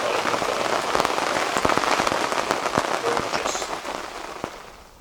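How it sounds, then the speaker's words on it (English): Heavy rain drumming on surfaces outside a woodland tipi shelter, a dense continuous patter with sharper individual drop hits, close and loud throughout. "Trying to dive in and out the rain."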